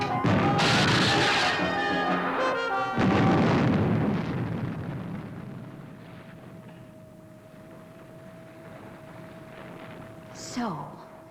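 A loud roaring blast marks missile ignition and launch in the Fireball XL5 puppet science-fiction series. Two heavy bursts in the first few seconds fade into a long rumbling decay, joined by a steady electronic tone and a brief whoosh near the end.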